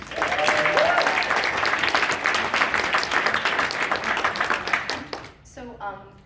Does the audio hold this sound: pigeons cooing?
no